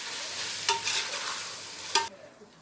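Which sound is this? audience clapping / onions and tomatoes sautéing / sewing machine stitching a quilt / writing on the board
onions and tomatoes sautéing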